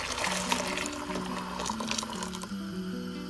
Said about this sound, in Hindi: अब साथ ही इसमें मैं 1 लीटर पानी भी ऐड कर दूंगी